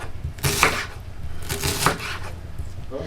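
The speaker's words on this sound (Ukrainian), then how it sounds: "Ось цибулю будемо також різати такими грубими кубочками." A knife chops an onion into coarse cubes on a board in a home kitchen while zucchini lecho is prepared: a few separate bursts of cutting strokes with quiet pauses between, close by and with no speech.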